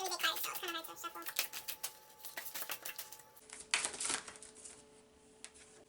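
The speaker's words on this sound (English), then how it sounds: "These are really big cards, so it's kind of hard to shuffle." Oversized tarot cards riffled and shuffled by hand in a series of crisp, rapid flicking bursts, close and fairly loud, with a brief pause and a second burst of shuffling near the end.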